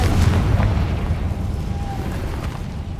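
Confringo fire spell explosions in the video game Hogwarts Legacy, with a heavy booming blast at the start that decays into a rumbling tail, loud and close.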